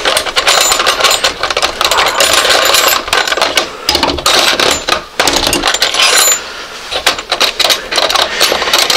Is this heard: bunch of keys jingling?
yes